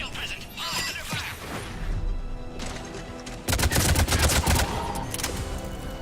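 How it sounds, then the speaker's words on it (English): Gunfire crackles through a Mass Effect 3 battle at a besieged checkpoint, with bursts of shots and impacts growing heavier and denser in the second half, mixed with voices calling out over the fighting. "They're under fire!"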